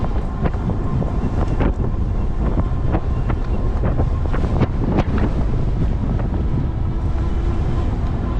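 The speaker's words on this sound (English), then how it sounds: "now I know I'm going into the wind" Strong headwind while riding an e-bike batters the microphone: a loud, continuous low rumble of wind buffeting with irregular gusty thumps and pops, no voices heard.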